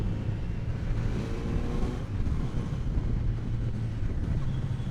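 A 2020 Kawasaki Z900 motorcycle cruises on a highway in Mumbai, its smooth, steady engine drone blending with heavy wind rush throughout, with no break in the sound.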